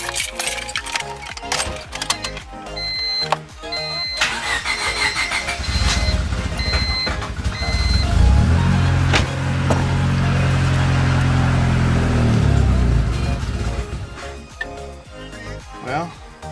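A turbocharged Honda Civic D16Y8 engine cranks and fires up, then settles into a steady, rumbling idle for several seconds, heard close by with a person talking over it.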